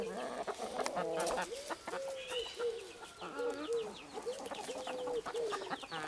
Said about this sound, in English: I can hear the hens.